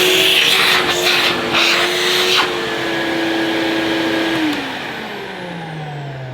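A Hoover S3200 compact canister vacuum cleaner runs with a loud, steady motor whine, then winds down near the end as the pitch drops and fades.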